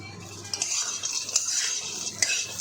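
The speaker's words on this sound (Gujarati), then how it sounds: "તો આ રીતે આપણે ડ્રાયફ્રૂટ પણ ઘીમાં શેકી લઈશું" Dry fruits, melon seeds and white sesame roast in ghee for Raksha Bandhan dry fruit laddoos, giving a steady soft sizzle with a few clinks of a spoon stirring against the pan, close by and alone.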